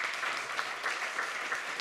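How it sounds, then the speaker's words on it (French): A crowd applauds award winners at a schools grand prix ceremony, giving steady, even clapping from start to end with no voices over it. "Je vous invite à les applaudir et à les féliciter."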